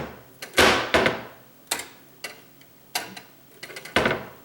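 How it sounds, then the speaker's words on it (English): Wooden kitchen cabinet door on an ordinary hinge without soft close, shutting repeatedly with sharp knocks and clacks, about seven in a loose uneven rhythm, close and loud with no talk. "when you close your door, if it's not closing nice and slow, you know it's not a self-closing one."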